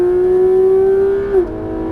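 A Porsche 991 GT3 RS at full throttle on the Alès circuit, its engine holding a loud, steady, high-pitched wail that breaks briefly near the end as the revs shift and settle, heard close with no talking.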